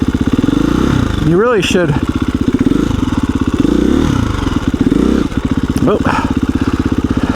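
A KTM 350 EXC-F dirt bike on a trail runs steadily close by, with two sharp revs rising and falling, one near the start and one near the end. A person talks over the engine.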